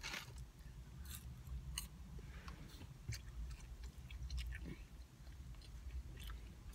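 Close, crunchy chewing of Wendy's french fries, with a steady run of soft bites and mouth sounds at low level and no talking.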